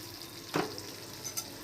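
Potato pieces cook in a spiced oil tempering in a pan while a wedding-style spicy pea usal is made: a faint, steady sizzle with one brief clatter of stirring partway through.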